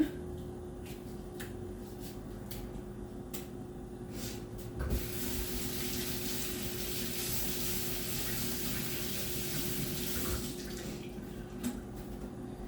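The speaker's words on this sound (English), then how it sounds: "Okay, rinse off my green onions." Green onions are rinsed under a running tap, a broad steady spray of water that starts abruptly, hisses loudly for several seconds and then cuts off, with faint kitchen clicks before and after.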